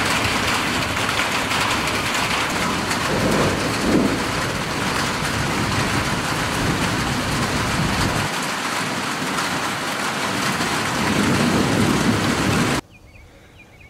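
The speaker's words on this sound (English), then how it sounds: "Got another storm rolling through." A thunderstorm at a rural farmhouse at night brings steady heavy rain with low rumbles of thunder, constant and loud until it cuts off abruptly near the end.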